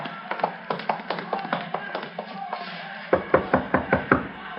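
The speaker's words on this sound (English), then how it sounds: "Knock on the door." Knuckles rap on a door at the back of a stand in a series of quick knocks, first a longer run of moderate taps and then a louder, heavier burst.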